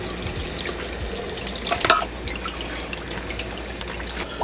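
Water splashing and trickling over a whole pig carcass as it is rinsed before seasoning, a steady close wash of running water with a brief louder splash midway.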